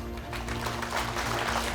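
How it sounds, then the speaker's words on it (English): Students in a classroom clap for themselves at a teacher's invitation, a dense, steady patter of many hands that holds through the whole moment with a low hum beneath. "You may clap for yourself."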